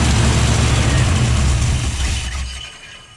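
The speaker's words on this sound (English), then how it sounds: "We also have to get the idle just right" An engine idles through a homemade Mad Max–style exhaust, a loud, dense, rumbling drone that holds steady and then fades away over the last second.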